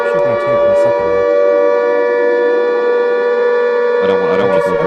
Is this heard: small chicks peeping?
no